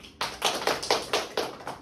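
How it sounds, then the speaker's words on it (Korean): Classroom applause breaks out at a school presentation as several quick, close claps arrive in an uneven rhythm, each one sharp and crisp. "다들 박수."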